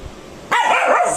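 A Lhasa Apso dog lets out a sudden loud bark or yip after a quiet moment, one sharp close burst with a wavering tail, heard alone.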